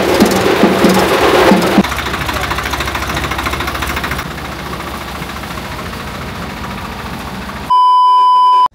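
A tractor carrying a village deity in a Gangamma jatara procession rumbles and idles nearby, louder at first and then settling to a lower, steadier drone; a sustained electronic beep cuts in at the very end.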